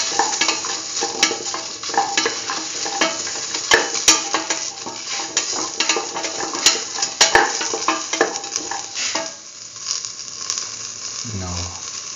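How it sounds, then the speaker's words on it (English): A green tomato and coconut curry mixture is sautéed in a pan, with loud continuous sizzling and frequent sharp clatters of a utensil against the pan, ending with a short quieter stretch. "Keep on sauteing. Thoroughly saute mix."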